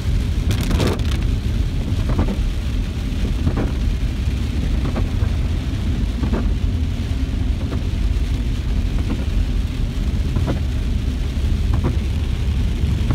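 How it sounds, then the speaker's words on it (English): Heavy downpour drums steadily on a car windshield, a dense continuous wash of noise with occasional sharper thumps and sweeps of the wipers at regular intervals. "Now it starts to pour. This is the heaviest downpour"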